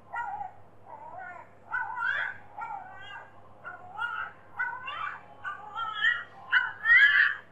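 A puppy whines in a run of short, high, wavering cries that rise and fall one after another, fairly close and steady in loudness, with a faint low hum underneath and no talking.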